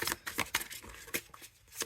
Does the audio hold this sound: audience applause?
no